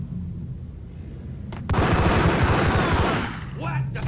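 A sudden loud burst of rapid gunfire in Max Payne erupts after a tense exchange of dialogue, roaring for over a second before tapering off into lingering echoes.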